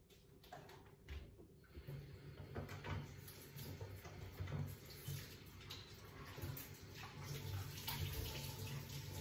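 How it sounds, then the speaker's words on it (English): Tap water runs steadily into a sink while hands are washed before baking, a faint continuous splashing rush with small shifts in its flow. "I'll just wash my hands and I'll get baking"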